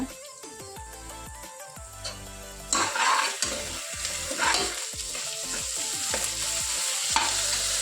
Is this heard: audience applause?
no